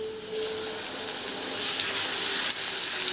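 Ginger and garlic drop into hot mustard oil with onions already fried red, and a bright, crackling sizzle builds and holds steady close by.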